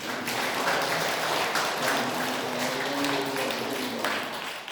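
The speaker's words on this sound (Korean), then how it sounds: "우리 하나님께 감사와 찬송과 영광의 박수를 올려드리겠습니다." Applause from a church congregation during a Korean Sunday worship service, a steady, dense wash of many hands clapping that fills the whole stretch at even loudness, with some faint tonal background underneath.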